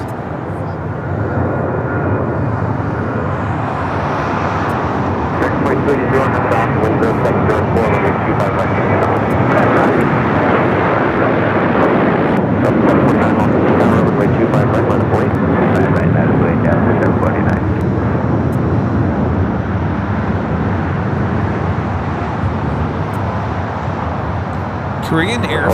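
A Korean Air Airbus A380 on its takeoff roll at LAX bound for Seoul, a loud, steady broadband engine roar that builds and holds for the whole stretch, with traffic noise and faint voices underneath.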